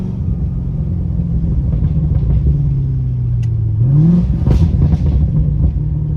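A C7 Corvette with a burble exhaust tune runs a steady deep rumble, then blips and revs up near the end with crackling pops, heard up close with no talking.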